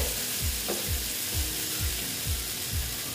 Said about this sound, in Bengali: এটা একটু আরো একটু কষিয়ে নেব